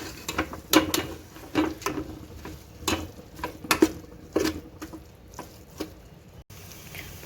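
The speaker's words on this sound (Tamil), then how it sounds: "புதினா கொத்தமல்லி போட்டு நல்லா வதக்கியாச்சு." Mint and coriander leaves sautéed in a pan for biryani, a stirring, scraping patter of spatula strokes coming in irregular bursts, close and fairly loud, without talk.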